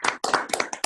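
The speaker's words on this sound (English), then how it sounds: "giving you a very well-deserved round of applause" A few online participants clap in appreciation, several close, uneven bursts of hand claps in under a second, loud and without talk.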